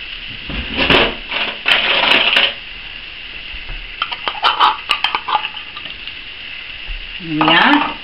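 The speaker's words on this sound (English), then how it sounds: "And into that pan we're going to put some butter, which we're going to cook the mushrooms." Butter goes into a hot pan set for cooking mushrooms and sizzles in short bursts with a few stirring scrapes, close and fairly loud, with no one talking.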